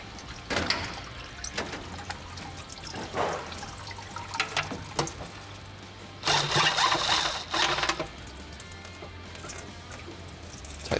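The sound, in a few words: transmission fluid draining from Nissan Patrol transmission pan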